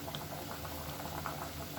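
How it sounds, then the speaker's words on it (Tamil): Raw plantain pieces roast with spice powder in a pan over medium flame, giving a soft, steady sizzle and bubbling crackle close by. "வாழைக்காய் ரோஸ்ட் ஆகிட்டு இருக்குது."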